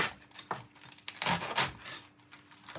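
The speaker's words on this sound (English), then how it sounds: "So you want to cut up your lettuce." Fresh lettuce being cut up for a juice gives crisp, crunchy tearing and crinkling in several irregular bursts, close up, with no talking.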